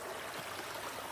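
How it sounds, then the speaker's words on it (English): Mountain stream flowing off a hillside on a trail, a steady broadband rush of running water, close and continuous with no talk. "Water flowing off the side of mountains,"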